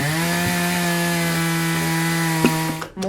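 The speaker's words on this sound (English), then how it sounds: "More chainsaw? This one's dismembering a body." A chainsaw runs continuously at a steady high idle-to-cutting drone, loud and close, with a brief bump and a tapering rev at the end; no talking.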